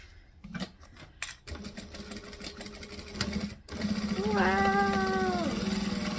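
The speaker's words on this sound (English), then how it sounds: "Then we can sew up these sides." Sewing machine running steadily as it stitches up the sides of a tote bag, with a few short start-stop bursts first and then a long, even, close-up run of motor whir.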